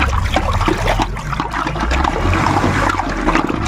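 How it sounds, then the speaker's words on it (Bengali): Mustard cake water mixed with DAP water is stirred with a stick, giving a steady close trickling, sloshing liquid sound with no talk. "এইবারে এই মিশ্রণ দুটোকে একটু ভালো করে কোনো দণ্ড দিয়ে নেড়ে নিতে হবে"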